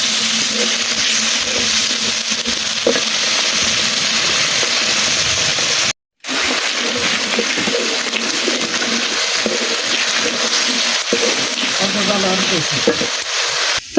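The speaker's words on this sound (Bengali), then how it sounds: "খুব ভালো করে একদম ভাজা ভাজা করে নেব" Whole spices, cinnamon, bay leaf and green chilli fry in hot oil for a village-style khichuri and chicken dish, giving a loud steady sizzle with stirring scrapes and a very short break in the middle.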